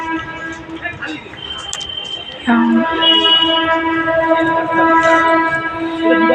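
A train approaches with a rising rumble and metallic ringing tones, growing louder partway through and holding steady as it pulls in.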